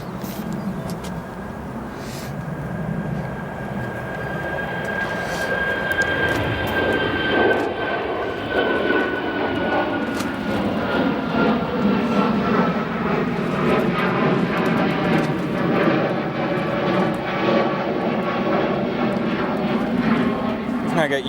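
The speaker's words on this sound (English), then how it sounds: "I got United Airlines Flight 118, a 757-200. Now rolling down to a right to Edinburgh." A United Airlines Boeing 757-200 jet rolls for takeoff at O'Hare, its engines a steady, loud roar with a rising whine, with talk running over it throughout.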